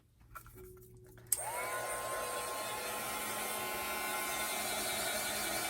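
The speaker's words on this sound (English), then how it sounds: "It's a heat tool" A craft heat tool switches on with a click and blows hot air in a steady, loud whirring roar with a rising motor whine, running continuously after a brief moment of quiet handling noise.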